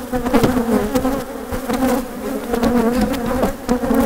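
A close, dense buzz from honey bees swarming over an open hive while combining a weak and strong colony, the drone steady and full with small shifts in pitch.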